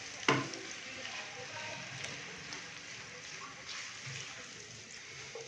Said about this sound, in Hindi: मीडियम फ्लेम पे प्याज को हम 3 से 4 मिनट के लिए फ्राई कर लेंगे